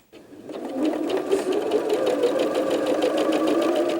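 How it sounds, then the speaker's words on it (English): A sewing machine runs steadily, stitching quilt block pieces together, with a rapid, even mechanical whirring and needle chatter that starts abruptly and continues loud and close without pause. "give that a quick sew"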